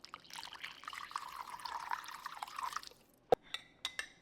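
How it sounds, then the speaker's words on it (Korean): Running water splashes as ham is rinsed under hot water for a few seconds, then stops, followed by several sharp drips and knocks. "얇은 햄은 뜨끈뜨끈한 물에 살짝 샤워시켜요"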